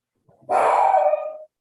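A dog barks once near a microphone on an open online meeting call, a single drawn-out bark that rises sharply and trails off over about a second, loud and alone with no talk.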